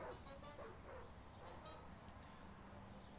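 A dog in the Ed, Edd n Eddy video game barks and yips several times in quick succession, faint and slightly muffled under game background noise.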